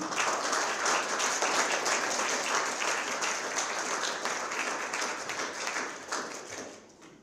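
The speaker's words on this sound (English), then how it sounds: "can we just one more time give it up for all of the award recipients?" Sustained audience applause for award recipients at a Halifax anti-Black racism grants ceremony, dense and even for several seconds before tapering off.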